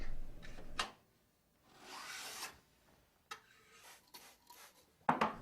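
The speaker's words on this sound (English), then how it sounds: "The first step is to joint the edge with a file to make sure that it's flat and true." A steel file rasps across the edge of a hard milled card scraper to joint it flat, giving a few separate rough strokes with short pauses between them, close up and fairly quiet.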